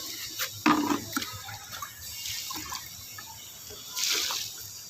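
Liquid plant solution is poured onto wilting okra plants in a garden, giving an uneven splashing and trickling with a few sharper bursts and a brief louder gush near the end.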